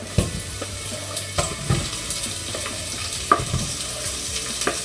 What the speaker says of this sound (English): The next step is to actually put in all of your leek. Maybe a little hard to put it into a big pot